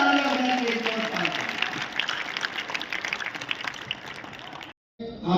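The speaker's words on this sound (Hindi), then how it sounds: "अपने जरा दोनों हाथ और जोरदार तालियां बजा के विनोद पाल" A crowd at a Marwari Yuva Manch comic poetry gathering claps for poet Vinod Pal. The applause is steady and dense for nearly five seconds, then cuts off briefly before resuming.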